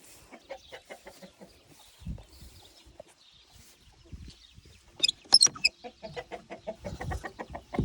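Adult hens let out of their coops cluck in a scattered run of short, clipped calls, with a brief louder squawk burst near the middle and some shuffling and knocks around them.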